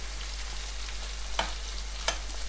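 Purple eggplant being stir-fried in a pan gives a steady soft sizzle, with two brief scrapes of stirring standing out over the constant frying hiss.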